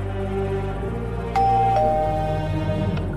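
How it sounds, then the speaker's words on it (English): A two-tone ding-dong doorbell chime rings once inside a Minecraft house, clear and near over a steady game background hum. "Oh, that's the doorbell."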